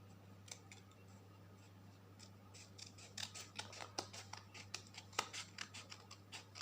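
Scissors snip through paper while a notebook is being made, a rapid series of crisp, close cuts that start sparse and grow steadier and denser, over a constant low hum.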